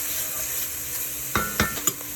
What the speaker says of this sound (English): I'm just gonna cook it until the onions are a little translucent